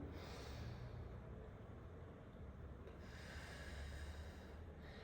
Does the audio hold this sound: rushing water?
no